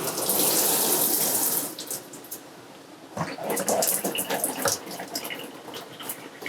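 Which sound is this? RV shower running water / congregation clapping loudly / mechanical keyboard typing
RV shower running water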